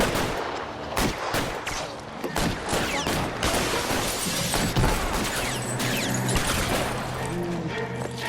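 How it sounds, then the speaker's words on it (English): Rapid bursts of gunfire from the detective video game L.A. Noire, loud and dense, with overlapping shots and crashing impacts that continue through the whole stretch. "All right, time to shoot some guys, I guess."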